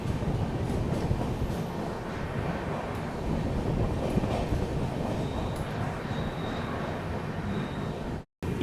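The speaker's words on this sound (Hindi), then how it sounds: "सामने से मेरे ख्याल से नवजीवन एक्सप्रेस जो है उसका अराइवल हो रहा है" The Navjeevan Express, a Chennai–Ahmedabad train, rolls in with a loud, steady rumble of wheels and coaches close by, a faint high whistle-like tone surfacing now and then before a sudden brief cutoff.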